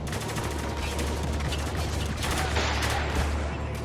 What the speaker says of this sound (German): Ach verdammt. Beschuss von überall.